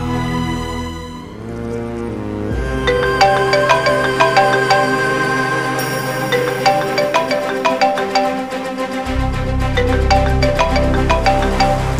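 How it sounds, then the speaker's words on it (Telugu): A mobile phone ringtone plays a loud, continuous electronic melody of repeating bright tones in a home bedroom, with no one speaking. "మీకేదో ఫోన్ వచ్చినట్టుంది,"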